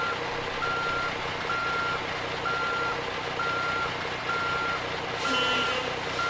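A Kenworth W900 truck in American Truck Simulator backs up with a steady series of evenly spaced reversing beeps over a continuous engine rumble.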